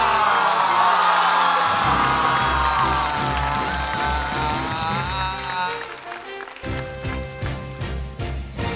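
A studio audience at a comedy show applauds and cheers as performers are introduced, a loud burst of clapping and whoops that fades, then gives way to a music sting.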